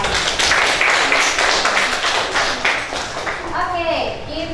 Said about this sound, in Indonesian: Kita tepuk tangan dulu untuk semua